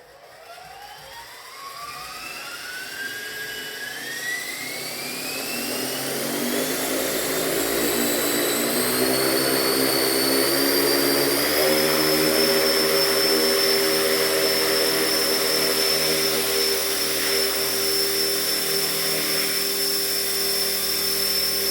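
A Blade 330S RC helicopter, just repaired, spins up from rest, its rotor whine rising steadily in pitch and loudness before settling into a smooth, sustained high whir close by.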